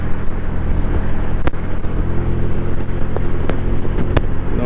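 A Can-Am Spyder three-wheeled roadster cruising in the fast lane of busy highway traffic: a loud, unbroken roar of engine, wind and road noise, with a few sharp clicks and no voices.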